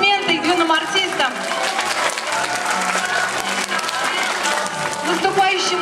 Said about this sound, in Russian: Еще раз аплодисменты юным артистам.